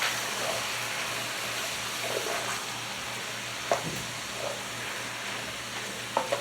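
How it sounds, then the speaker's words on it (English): Ground beef browning in a pan for taco soup, a low steady sizzle with a few soft clinks and scrapes of a utensil stirring and chopping the meat, no talk. "I'm going to get that browned up and I'm going to drain it"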